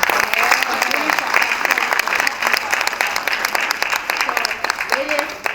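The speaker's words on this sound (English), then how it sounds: "I think we should give them a resounding clap." Applause from an audience of women at a meeting with Liberia's vice president, a steady dense clapping that runs loud and unbroken throughout, with a few voices faintly mixed in.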